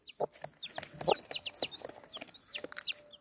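Newly hatched chicks cheep in rapid high-pitched chirps alongside a hen's low clucks, close and busy throughout a short burst.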